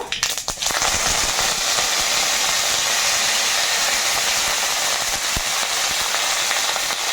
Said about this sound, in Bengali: ফোড়ন আমি দিয়ে দেবো সর্ষে এখন দিয়ে দেবো কারি পাতা